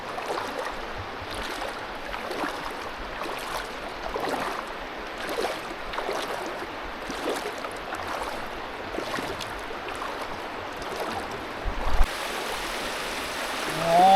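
Flood water flowing past a house in Thailand, a continuous rushing, gurgling stream sound, moderately loud and steady with small splashes, and no voices.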